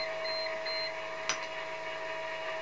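Two short, high electronic beeps from a DIY electric bike's motor setup sound in quick succession over a steady hum, followed by a brief sharp click.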